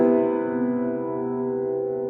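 A sustained piano major seventh chord, voiced with the third and no fifth, rings out and slowly decays, its notes blending into a rich, even tone with no other sounds.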